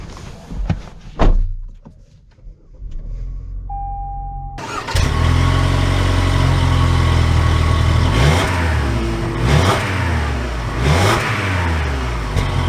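A 2023 Toyota Highlander Platinum starts up with a door sound and brief clunks, then its engine catches and revs into a loud, steady acceleration that builds and holds for several seconds, no talking.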